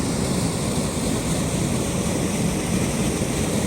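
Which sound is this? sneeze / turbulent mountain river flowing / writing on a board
turbulent mountain river flowing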